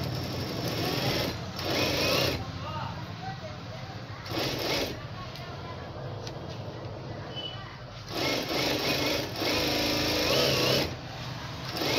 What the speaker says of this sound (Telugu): ఈ లైన్ తోటి మనము స్టిచ్చింగ్ అనేది వేసేసుకోవాలి